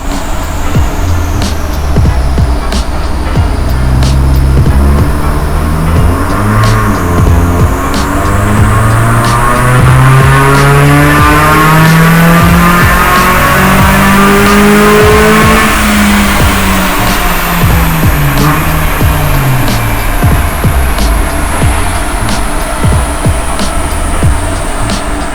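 Tuned car engine on a dyno during a power run with Unichip tuning and added ignition timing, revving loud and steady as rising harmonics climb through the range before easing back, continuous for the whole stretch.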